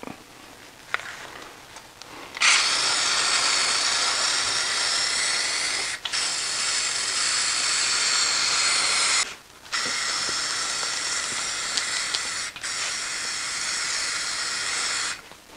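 Aerosol can spraying metallic black paint as a final coat onto a picture frame: long, loud, steady hisses broken by three short pauses, close to the listener.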